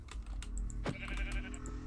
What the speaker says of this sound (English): Oh, sheep, yes.